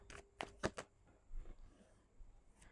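Tarot cards are shuffled in a few quick, crisp riffles near the listener, followed by softer card rustling in a quiet room.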